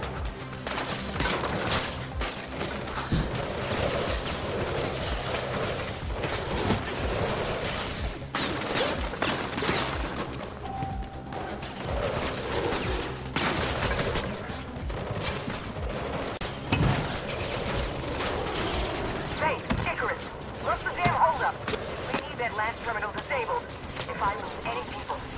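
Gunfire rattles through a Mirror's Edge Catalyst firefight in repeated close, sharp bursts and volleys for the whole stretch, mixed with crashes and impacts while voices talk over the action.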